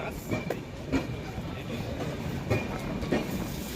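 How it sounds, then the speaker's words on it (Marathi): The Netravati Express pulls into a station running late, its carriages rumbling past with steady rhythmic wheel clatter and periodic clanks over rail joints, close and continuous. "दीड तास लेट आहे ट्रेन आणि आलेली आहे नेत्रावती एक्सप्रेस"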